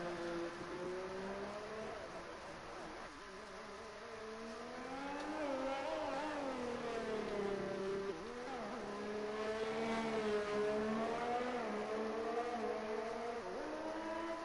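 A Formula 1 car engine in a racing video game at Singapore's Marina Bay street circuit rises and falls in pitch as it shifts gears and changes speed, with a continuous, fairly quiet whine and no talk.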